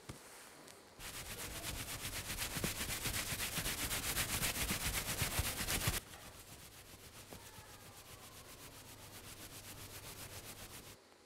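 Rough fabric rubbed hard in quick, even back-and-forth strokes, close and rasping like a brush scrubbing a floor, one long burst followed by a slightly softer stretch, no talk.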